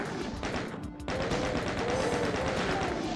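Chaingunner enemies fire in DOOM: The Plutonia Experiment, a dense, continuous rattle of rapid gunshots that briefly breaks off and then resumes at full volume, loud and without talking.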